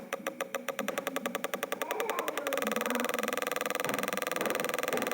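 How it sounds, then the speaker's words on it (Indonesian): A Honda motorcycle engine connected to an ECM simulator revs up: rapid regular firing pulses quicken into a steady, buzzing high-rpm drone, close and fairly loud, with no talk over it. "Misalnya kita gas motornya."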